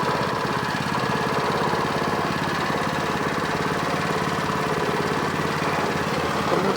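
A small engine-driven water pump runs at a steady idle, a continuous close, even mechanical chug with light vibration and no talk throughout.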